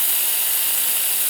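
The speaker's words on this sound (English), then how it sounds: "And then, Dima, give me like a spray sounding effect there" A continuous pepper spray hiss, bright and loud, runs unbroken for just over a second with no voices and no pauses.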